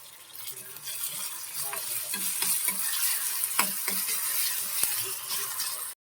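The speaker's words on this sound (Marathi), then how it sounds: "आणि टोमॅटो घालून घेणार आहोत आणि टोमॅटो नरम होईपर्यंत छान परतून घेणार आहोत" Tomatoes sautéing with onion and curry leaves in a pan, a loud continuous close sizzle with occasional stirring scrapes, with no talking.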